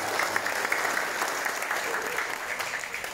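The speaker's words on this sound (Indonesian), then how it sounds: "Tepuk tangan buat ibu-ibu dan bapak-bapak." Residents gathered at a community halal bihalal dialogue in Cengkareng Barat clap together, a steady mid-level patter of many hands with slight swells, no distinct voices above it.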